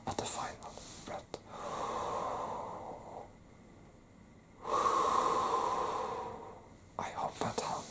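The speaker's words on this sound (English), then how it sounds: "Let's take a really deep one at the final breath." A whispering meditation guide takes a slow, deep breath, with a long breathy inhale and a fuller exhale heard up close between soft clicks and rustles.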